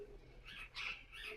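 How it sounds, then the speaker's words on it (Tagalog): A bird calls at a bird park in CampBell Town, Saitama, Japan, giving three short, soft chirps in quick succession that sound faint and somewhat distant against a quiet background. "Yung huni ng ibon."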